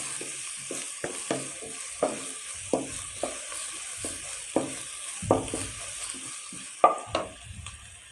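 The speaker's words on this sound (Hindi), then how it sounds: "इसको 2-3 मिनट के लिए फ्राई कर लेंगे अच्छा सा।" Masala frying in a pan for kaleji, a continuous bright sizzle with a dozen or so scrapes and knocks of a spatula stirring at an irregular pace.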